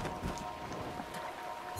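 Steady rain hisses across the landscape in Breath of the Wild, a dense, even patter of drops with faint underlying rumble and no voices.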